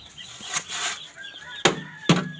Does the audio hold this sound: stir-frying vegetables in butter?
no